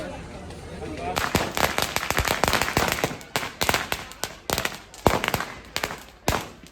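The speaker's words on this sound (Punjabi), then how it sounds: "ਬੱਚੇ ਪੂਰੇ ਜੁਟੇ ਹੋਏ ਪਟਾਕਿਆਂ ਨੂੰ" A rapid string of firecrackers bursting in sharp, uneven pops at a Diwali celebration in a parking lot in Italy, with a few louder bangs near the end, and people talking underneath.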